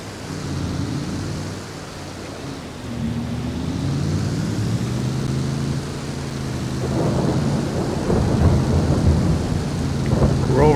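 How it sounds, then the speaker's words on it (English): Steady rain falls with rolling thunder in the Farming Simulator 22 video game, low rumbles swelling and fading over a constant wash of rainfall, growing heavier toward the end. "it's raining right now"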